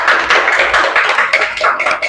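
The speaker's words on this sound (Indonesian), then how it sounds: "Beri tepuk tangan kepadanya." A classroom of young pupils claps for a classmate after her turn at the front, a dense, steady patter of many hands lasting about two seconds, close and lively with no talk over it.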